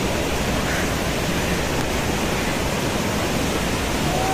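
A waterfall roars in a dense forest in Somnath, a steady broadband rush of falling water that fills the whole stretch without change.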